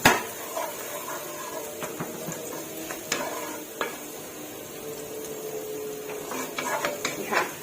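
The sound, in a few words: stir-frying garlic in a pan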